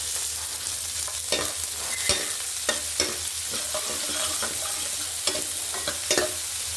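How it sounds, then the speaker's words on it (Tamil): Shallots and green chilies sauté in hot oil for a traditional manathakkali rasam, giving a steady sizzle with frequent scraping clicks of a spoon stirring the pan, close and alone without talk. "இது லைட்டாக வதங்கினா போதும்"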